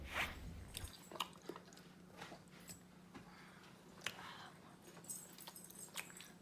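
Someone eating fried octopus rubbed with chili, soft close bites and chewing with scattered small crunches and wet squishy sounds, quiet and intermittent with no talking.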